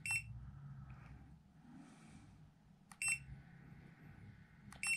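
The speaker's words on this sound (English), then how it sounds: "Sorry for all the beeping." A Creality CR-Scan Ferret 3D scanner gives short, sharp electronic beeps, a burst at the start and again near the third and fifth seconds, over a low background hum.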